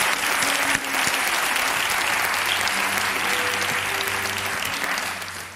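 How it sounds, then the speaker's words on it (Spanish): A studio audience on an afternoon television show gives Carla steady, sustained applause, close and full, tapering slightly at the end with no talk over it. "Un aplauso para Carla."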